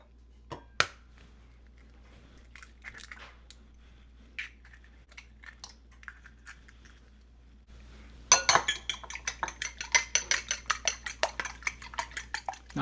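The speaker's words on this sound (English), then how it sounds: "Now it's time to beat up a couple eggs." A couple of eggs are beaten in a bowl for Hawaiian-style bread pudding, giving quick, rhythmic clinking of utensil against the bowl that starts loud and close after a quieter stretch of scattered kitchen clatter.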